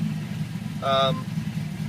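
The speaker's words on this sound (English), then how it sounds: "Settles back down to idle very easily." A 360 hp Star Road Datsun Fairlady S30Z engine sits at a low, steady idle rumble after a rev, with a brief vocal tone rising over it midway.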